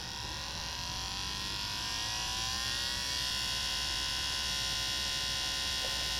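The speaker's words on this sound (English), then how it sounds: "there's the motor running at full speed" The blower motor of a 2004–2008 Pontiac Grand Prix runs at full speed, a loud, steady whooshing hum of rushing air with a constant motor drone, heard up close and unbroken by speech.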